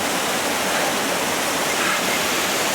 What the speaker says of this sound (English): We made it up to a waterfall.